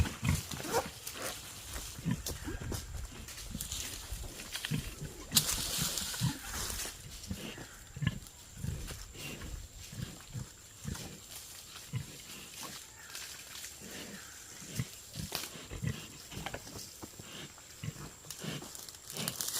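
Pigs grunt and snuffle around a water hole on a farm, with irregular low grunts and chomping sounds at close range and an occasional brief splash or spray of water behind them.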